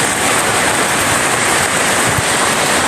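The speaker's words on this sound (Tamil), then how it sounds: "அந்த வந்து கூடுதலான மழையும் காற்றும் அடிக்குது." Heavy rain and wind from a storm lashing near a house and a tall 60-70 foot palm tree, a dense steady roar with no pauses, loud and close, with no talking.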